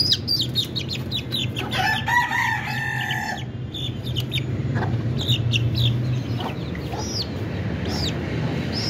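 Chickens cluck and chirp steadily, with a rooster-like call rising briefly near the start, all close by in a noisy coop with a low background hum.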